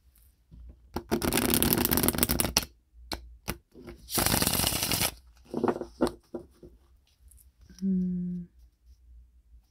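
Tarot cards are shuffled in two loud riffling bursts with softer handling sounds between, and a short low hum near the end.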